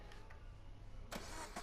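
A BMW M4 engine in The Crew 2 video game idles with a low, steady hum, then a sharp, louder burst of revving or starting noise hits near the end, close and alone without any talk.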